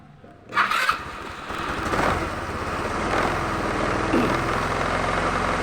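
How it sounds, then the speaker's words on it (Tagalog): A motorcycle engine cranks and catches with a sharp burst on a rainy day, then settles into a steady, close warm-up idle that grows slightly louder. "Kailangan natin magpainit ng motor."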